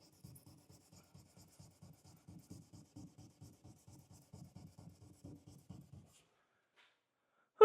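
A marker-stained whiteboard being scrubbed by hand to remove stubborn ink, giving a steady run of short, rhythmic scratchy strokes, close and fairly quiet, stopping abruptly with a brief loud knock at the end.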